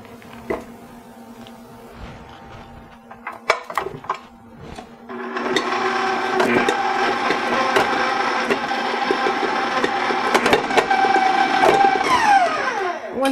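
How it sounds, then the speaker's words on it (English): An electric mixer beats butter alone in a bowl for pumpkin cookies: a few light clatters, then a steady, loud motor whine with a rattling hum that holds to the end. "So I'm going to start by beating my butter"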